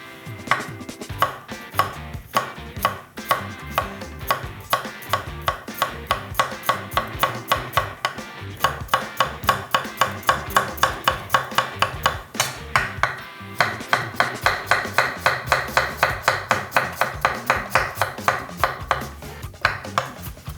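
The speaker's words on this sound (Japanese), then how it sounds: "はじめにニンニクと生姜を切っていきましょうか" A knife chops garlic and ginger on a cutting board, rapid sharp taps in fast steady bursts, close and crisp, with brief pauses between runs and no talk.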